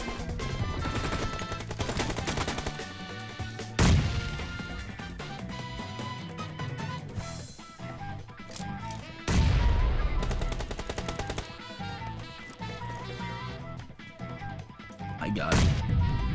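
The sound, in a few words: gunfire in a shooter video game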